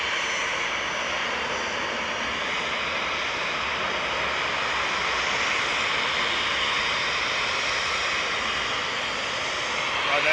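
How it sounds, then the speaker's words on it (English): A Boeing 737-800 jet airliner bound for Venice roars steadily at Manchester Airport, a loud broadband jet rush with a hissing high edge that holds evenly throughout. "Right there, 28982 Venice now, 9HQAU"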